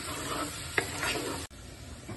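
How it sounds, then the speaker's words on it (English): Garlic and ginger frying in oil in a pan for chicken biryani, a soft steady sizzle with one sharp utensil tap as it is stirred. "अभी लहसुन अदरक डाल रही हूँ"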